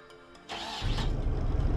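A mid-pitched engine in Scrap Mechanic, set to gear 3, starts up with a short rising whine and then settles into a loud, steady droning run close by, with no talking.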